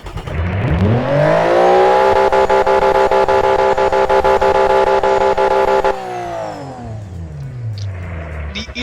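An 800-horsepower car engine in BeamNG revs up sharply, holds a loud high-pitched roar with rapid rev-limiter stutters, then winds back down to idle.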